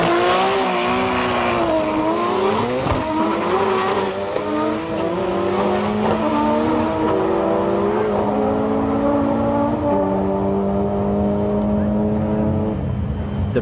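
RB26-powered Datsun 260Z roars down a drag strip in Sendai, its straight-six howling loudly through repeated rising gear pulls with brief shift dips, close, sustained and dominating, with faint tire noise underneath.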